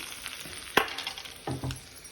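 Hot asafoetida tempering poured onto gongura chutney with a sharp sizzle, followed by further short bursts of crackling and a clink of utensils, close and clear.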